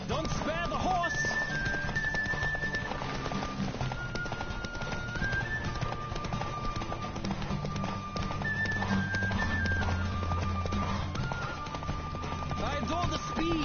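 Galloping horse hooves clip-clop steadily through a race in The Witcher 3, thudding beneath game music and a voice cheering the rider on, with a brief whinny.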